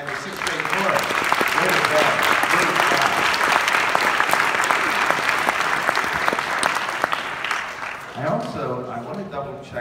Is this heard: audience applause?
yes